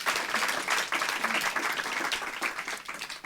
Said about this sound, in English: Could we have a round of applause for two of these people?